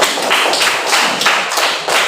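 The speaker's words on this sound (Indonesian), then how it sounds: "mari kita tepuk tangan untuk kelompok 3" A classroom audience applauds a presenting student group in a brief burst of clapping, with dense, uneven hand claps close to the microphone and no talk.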